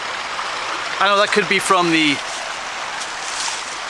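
A forest creek in Michaux State Forest, Pennsylvania, flowing with a steady broad rushing wash throughout, while someone speaks briefly over it near the middle.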